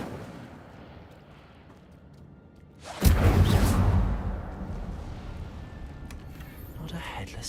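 A fire spell cast in Hogwarts Legacy bursts in as a sudden loud whooshing blast of flame around three seconds, then roars and slowly fades into a rumbling background.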